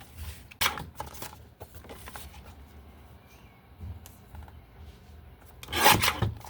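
Paper being cut for a handmade papercraft piano explosion box: short rasping, rubbing strokes in two bursts at the start and a louder one near the end, with quieter shuffling handling noise between them and no speech.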